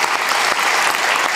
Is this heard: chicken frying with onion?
no